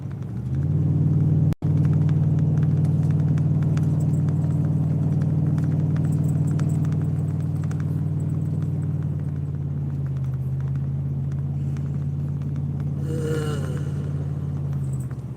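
A Dodge Ram pickup driving on the road makes a loud, steady low rumble heard from inside the cab. One sharp dropout comes near the start, and the drone continues with a faint scrape later on.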